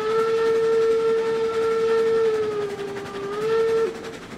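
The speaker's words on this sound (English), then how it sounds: "Senseless whistle blowing for no reason." Steam locomotive whistle in the train game RailRoads Online, one loud sustained near blast with a slight dip in pitch before it cuts off.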